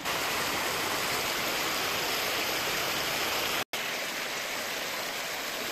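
A mountain stream rushes through the Harmanické žľaby karst gorge near Banská Bystrica, a loud, dense, continuous roar of flowing water, broken only by a momentary dropout.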